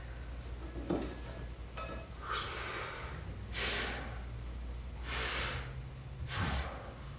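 Labored, rasping breaths drawn through an oxygen supply, several heavy gasping inhalations and exhalations in a slow irregular rhythm over a steady low hum, close and fairly loud, with no talking.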